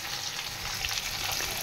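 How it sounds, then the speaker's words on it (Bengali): Potatoes fry in mustard oil with a steady, close hiss and crackle that runs through the whole short stretch at an even level, with no voices. "আলুটা ভেজে নিচ্ছে"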